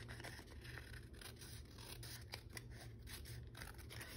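Scissors snipping through junk-mail envelope paper, trimming a piece for a craft project; a steady run of close, crisp cuts and paper scrapes with no talking.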